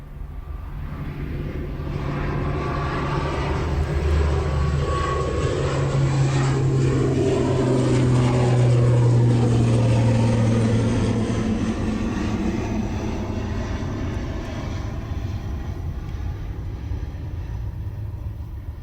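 An ATR turboprop airliner passes at an airport, a loud, sustained propeller and engine drone that swells and slowly fades over nearly twenty seconds, with no talking.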